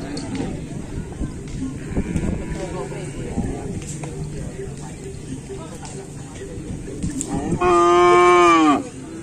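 A cow lets out one loud, drawn-out moo near the end, following a stretch of outdoor noise and background chatter at a Madurese bull race (kerapan sapi) event.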